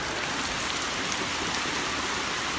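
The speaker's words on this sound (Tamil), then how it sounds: "இங்கே பெருமழை பெய்யுது இருக்குல்ல" Heavy rain pours down steadily at Sadhana Forest, a dense, even hiss of drops close by that never lets up.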